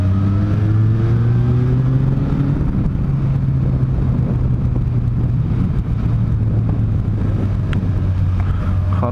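A car engine accelerates in second gear on a mountain road in the Picos de Europa, a loud close drone with rising pitch that levels off, under steady wind noise.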